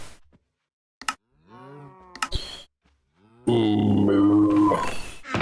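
Several cow moos from Minecraft, in-game livestock sounds coming in separate bursts with short gaps, ending in a long loud low moo close up.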